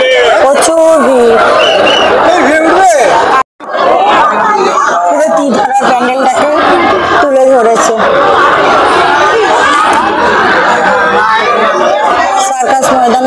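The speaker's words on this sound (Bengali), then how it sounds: "মানুষের গিজ গিজ গিজ গিজ করার ভিড়, প্রচুর ভিড়, প্রচুর ভিড় সার্কাস ময়দানে" A dense crowd chatters at a Durga puja pandal on Circus Maidan, a loud, continuous babble of many voices heard close, with someone talking prominently over it.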